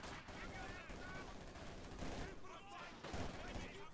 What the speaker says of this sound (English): Chowing into the Grenadiers there with heavy submachine gun fire